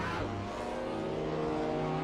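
BMW M4 race cars roar along the main straight of a circuit during a racing event, a steady loud engine drone with rising pitch as the cars run together.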